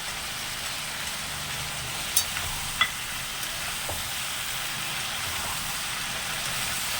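Mixed vegetables with a fish head, including beans, pumpkin, potato and greens stalks, sizzle steadily in a pan, a continuous close hiss broken by a couple of light clinks from stirring.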